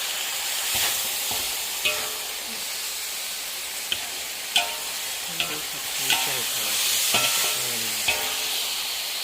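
Pork with ginger stir-fries in a hot pan with a loud, continuous sizzle and hiss, broken by scattered clacks and scrapes of a utensil against the pan.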